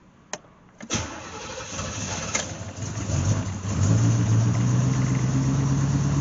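C4 Corvette engine starting after a new fuel pump is primed: a couple of clicks, a short cranking whir, then the engine catches and settles into a steady, close, loud idle, with no talking.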